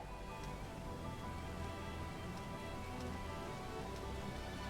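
Rain in the video game Sonic Frontiers, a steady, dense patter that holds evenly throughout at low volume, with no voices over it.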